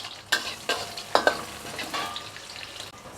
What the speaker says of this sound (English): Stir fry it until aromatic